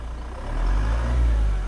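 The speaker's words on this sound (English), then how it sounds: "You can really hear it's a diesel when you're outside" A Toyota Land Cruiser Prado 2.8L turbo diesel engine rumbles steadily outdoors, its low throb swelling slightly louder after a moment and holding there, with no voices.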